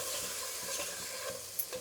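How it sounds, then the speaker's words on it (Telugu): Bisibelebath powder being stirred into vegetables cooking in a pan, a steady close sizzle with soft scraping strokes of the spoon, with no talking. "ఇప్పుడు దీన్ని కలుపుకుందాం."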